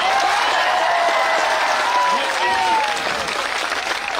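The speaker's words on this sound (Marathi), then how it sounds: "जोरात टाळ्या वाजून इथून टाकून द्या." Loud applause from a large crowd at an outdoor protest rally, sustained dense clapping that tapers off slightly toward the end, with a faint voice calling over it.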